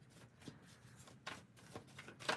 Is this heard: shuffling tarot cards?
yes